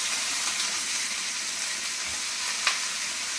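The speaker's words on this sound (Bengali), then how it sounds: "বেগুনটা দিয়ে ভেজে নেব" Cut eggplant sizzles in a hot pan with onions and green chillies, a constant bright frying hiss with a few faint pops and stirring clicks.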